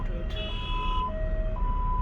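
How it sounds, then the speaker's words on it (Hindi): An ambulance siren wails from the road nearby, its alternating tones stepping up and down over steady traffic rumble, heard from inside a slowing car. "I think there is an ambulance, but वो हमारी लेन में नहीं है"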